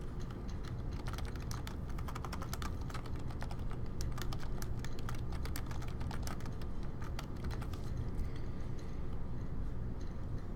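Steady typing on a computer keyboard, a continuous stream of close, crisp key clicks without a break and no talking.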